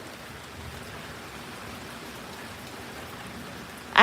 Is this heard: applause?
no